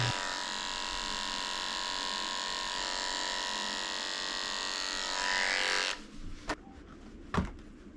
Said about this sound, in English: Then I'm going to shave out the crusties.